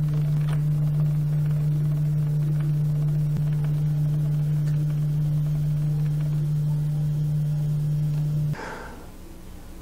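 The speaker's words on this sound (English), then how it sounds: "I'm going to move the Z-axis down some." The Z-axis motor of a Prusa i3 MK3 3D printer drives down with a steady, close, low electric drone that runs unbroken for about eight seconds, then stops abruptly.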